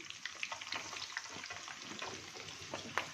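Onions sauté in oil with whole spices, giving a soft, crackly sizzle with scattered pops and stirring sounds, fairly quiet and close.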